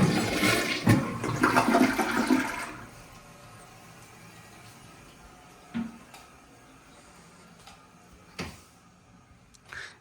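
An American Standard toilet in a hotel room flushes with a loud rushing burst of water lasting a few seconds, then settles into a faint trickle broken by a few soft clicks and knocks.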